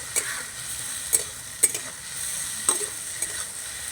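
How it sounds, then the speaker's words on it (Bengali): Salted tomatoes being stirred in a frying pan, a steady soft sizzle with a few sharp scrapes and taps of the spatula scattered through, close and alone. "লবণ দিয়ে একটু নাড়াচাড়া করে নেব"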